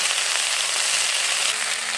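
Steady, dense sizzling of drumstick leaves frying in hot oil in a pan, continuous and close with no pauses.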